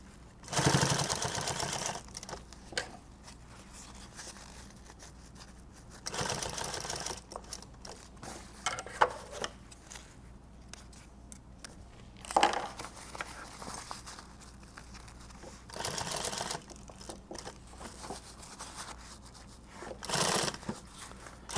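Sewing machine stitching pieces of a build project in short bursts, about five or six loud runs of a second or two each, with quiet handling and shuffling between them.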